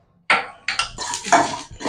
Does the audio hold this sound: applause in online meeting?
no